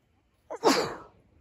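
A single sharp sneeze, close and loud, with a brief intake before the burst, then trailing off into quiet.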